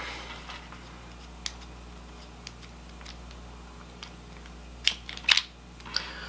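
The cover comes off a baitcaster fishing reel with a few small, close plastic clicks and snaps, scattered and quiet, ending in a brief cluster of sharper ticks.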